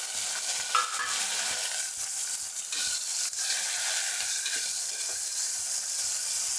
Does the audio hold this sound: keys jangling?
no